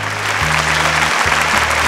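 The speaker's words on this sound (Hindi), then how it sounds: "बहुत जोरदार तालियों के साथ स्वागत करी" An audience gives strong applause to welcome a contestant on a Bhojpuri regional dance show, with steady, dense clapping throughout and low sustained musical tones underneath.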